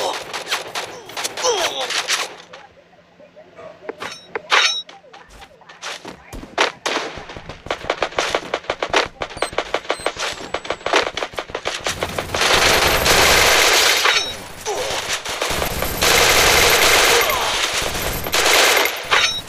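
Rapid bursts of MP40 submachine gun fire in a video game, crackling in dense volleys with brief pauses, loud and close, with heavier sustained shooting toward the end.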